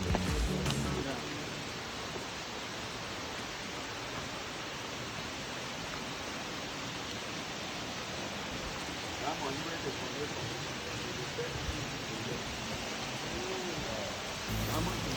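A natural waterfall near Obudu Cattle Ranch, Nigeria, pours in a steady, dense, broadband rush that holds even and unbroken throughout, moderately loud with no voices.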